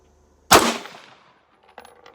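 A single sharp, loud rifle shot from a Bushmaster Varminter on a bipod at a shooting range, with a long fading ring-out tail and faint handling noise after.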